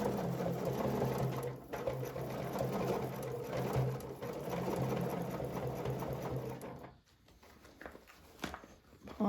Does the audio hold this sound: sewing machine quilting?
yes